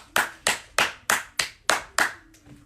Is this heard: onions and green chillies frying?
no